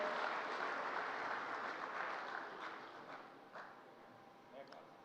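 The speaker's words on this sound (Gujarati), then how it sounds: "જોરદાર તાળીઓ સાથે આપણે બધા જ અભિનંદન પાઠવીએ" Audience applause at an MOU exchange ceremony for Baroda's Laxmi Vilas Palace, a broad sustained clapping from a hall crowd that gradually thins and fades toward the end.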